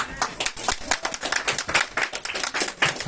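A church congregation applauds during a worship service, with steady, brisk clapping from many hands and voices mixed in.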